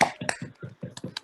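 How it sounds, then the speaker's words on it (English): Several people clap over a video call after a reading, with about eight separate soft claps in an uneven rhythm and no talk. "everyone can unmute themselves if you want to just clap for everyone"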